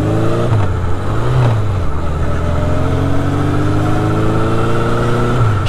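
A warmed-up Honda CB750 Four motorcycle engine idles high, above 2000 rpm, then revs up and down in a few short blips. The steady, close, loud four-cylinder drone runs alone, with no voices.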